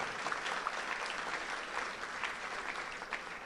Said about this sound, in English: we need to give a big round of applause for these wonderful organizations